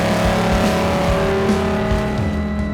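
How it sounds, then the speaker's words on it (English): A jet truck at an air show running its engine hard: a loud, continuous, throbbing roar, close and sustained without a break for the whole stretch, no voices over it. "It's like a jet truck"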